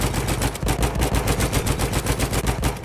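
Rapid turret machine-gun fire in the Battlefield 1 video game, a loud, dense stream of bursts that keeps going for about three seconds with no talk.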